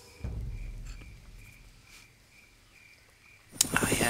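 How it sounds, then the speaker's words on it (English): Crickets chirp steadily in the night ambience of Jurassic Park: The Game, a faint repeating trill. A low thud comes early, and a sudden loud burst of noise hits near the end. "Cricket, cricket, cricket."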